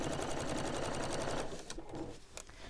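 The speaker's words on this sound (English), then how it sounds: "concentrate on where I'm actually sewing, not on all of this lump of fabric" Sewing machine stitching along fabric seams with a bulky lump of material: a rapid, even mechanical chatter runs close and steady for about a second and a half, then breaks into uneven clicks and shorter bursts as the fabric shifts.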